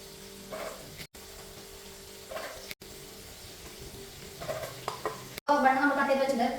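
Chicken burger mixture frying in a pan, a steady low sizzle with stirring and scraping that grows louder and busier toward the end.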